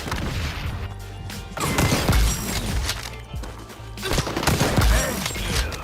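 Rapid bursts of light machine gun fire in the shooter game XDefiant, sustained loud volleys with brief gaps, close and punchy, with no voices over them.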